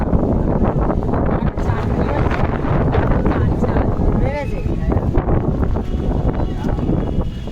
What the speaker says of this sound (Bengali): সেই লেভেলের হাওয়া হচ্ছে, ছাদে দাঁড়াতে পারছি না এত জোরে হাওয়া